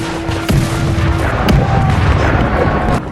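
Heavy artillery bombarding Ottoman positions during the 1686 siege of Buda: a dense, loud rumbling barrage with a few sharp booms standing out through the whole stretch.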